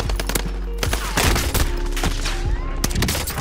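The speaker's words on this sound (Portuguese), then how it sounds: "Meu Deus, que tiro foi esse?" Rapid bursts of automatic gunfire from a firefight in the video game Warzone, loud and close with overlapping shots and brief pauses, plus some faint voice chatter.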